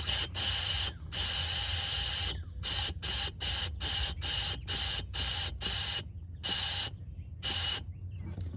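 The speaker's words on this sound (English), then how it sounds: "we're going to take our nozzle, we're going to insert it inside the hole as best we can given our space confinements here. And we're going to see if we can pump this." An air compressor nozzle pushes air into the air suspension of a 2007 Cadillac DTS, giving close, loud hissing bursts: one long blast, then a rapid series of short, evenly spaced puffs with brief silences between them.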